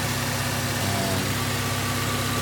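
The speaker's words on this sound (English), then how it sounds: "pretty much what we get at idle." A K20 engine swapped into a Honda Accord CB7 idles with a steady, even hum and faint mechanical vibration, close and constant with no voices.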